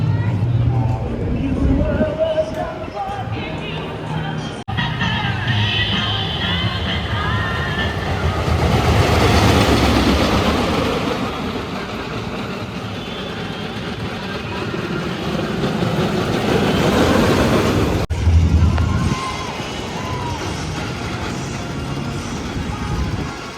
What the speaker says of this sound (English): It's one of the lower wooden coasters I've ridden